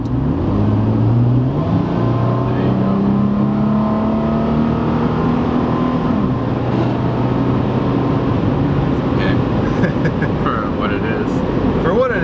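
A Toyota FJ Cruiser's six-cylinder engine rumbles and rises in pitch as the SUV accelerates, heard from inside the cabin, with a steady low drone underneath.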